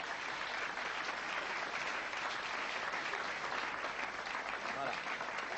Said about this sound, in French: Des applaudissements pour Greten qui vient de réussir en une seul